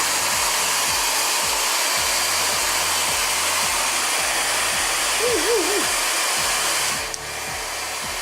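A mini hair dryer blows heat on hair in a loud, steady, close-up whoosh that runs unbroken. Near the end it briefly dips and shifts.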